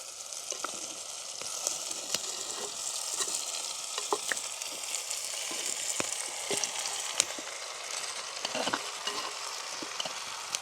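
Country chicken meat and tomatoes stir-fried in a pan in a village kitchen: a soft, even frying hiss runs throughout, dotted with light spatula taps and scrapes, fairly quiet and without speech.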